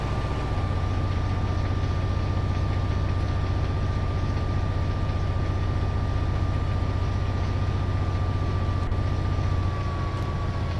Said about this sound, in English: there is also an Azuma train heading into Peterborough station